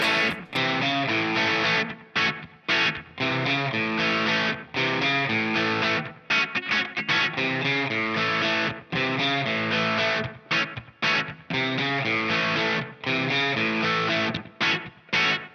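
A distorted electric guitar plays a riff continuously with chunky, driving chords and brief gaps between phrases, loud and up close, no voices.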